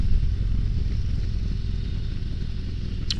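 A 2023 Harley-Davidson Road Glide Special runs with a steady, deep engine rumble, close and loud throughout. A short, sharp click comes near the end.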